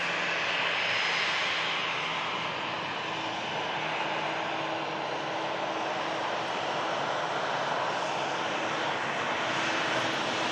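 A weathered KLM airliner in the old livery passes at the airport, its jet engines giving a loud, continuous broadband roar that holds steady for the whole stretch, with no voices over it.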